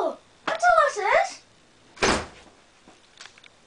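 A voice speaks briefly, then a door swings shut with a single solid thud, close by, followed by faint rustling.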